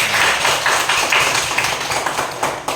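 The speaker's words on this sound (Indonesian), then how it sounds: "tepuk tangan untuk kita" Children in a classroom clap together, a loud, close, rapid patter of many hands that runs steadily throughout with no talking.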